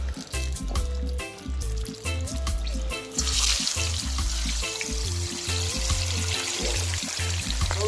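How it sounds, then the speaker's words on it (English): Marinated fish goes into a hot pot for brown stew fish and sizzles, frying with a busy crackle, while water pours and splashes alongside; the cooking noise stays close and loud throughout, with no talk. "Right, we're going to place them into the pot now."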